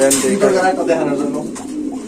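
Pigeons coo softly and close by in a busy pigeon market with black dragon and white Spanish breeds, their low throaty calls blending with people talking nearby.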